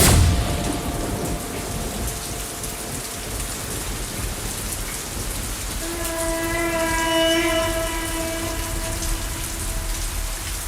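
Heavy rain pours down steadily in Chennai, a dense continuous roar with no talking, while a high tonal whine or hum rises partway through and holds over the downpour.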